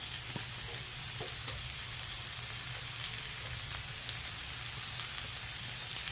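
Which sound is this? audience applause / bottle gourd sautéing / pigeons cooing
bottle gourd sautéing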